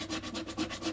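Rhythmic back-and-forth rubbing of 150 grit sandpaper over the frets of a First Act GarageMaster guitar during fret leveling, about five close, even strokes in one second with no voices.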